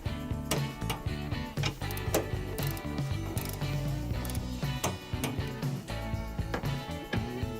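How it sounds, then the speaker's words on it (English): A ratchet clicks in quick repeated bursts as it retightens the battery support brace bolts on a 2008-or-later Chevrolet Silverado, the close metallic ticking steady and dense throughout. "retighten the bolts to 80 inch-pounds"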